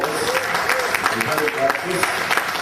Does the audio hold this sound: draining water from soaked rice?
no